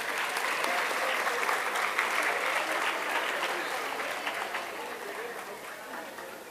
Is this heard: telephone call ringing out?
no